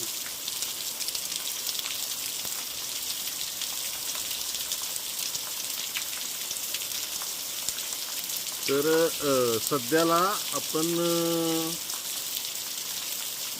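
Heavy rain pours steadily in the Gondavale Khurd area of Maan taluka, a dense constant hiss close by, with someone speaking briefly over it toward the end.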